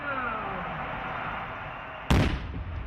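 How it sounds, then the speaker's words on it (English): A touchdown firework launches with a sudden loud boom over the steady roar of a Tennessee college football crowd in the stadium, a single sharp blast followed by a brief rumbling tail. "Touchdown fireworks are one of the many types of pyrotechnic entertainment they shoot"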